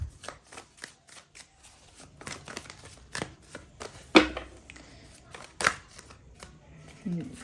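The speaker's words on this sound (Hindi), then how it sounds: "पर पहले हम और भी कार्ड्स को पिक करते हैं" Tarot cards being shuffled and picked, giving a series of light papery flicks and slaps in irregular bursts, fairly close, with a person speaking quietly over them.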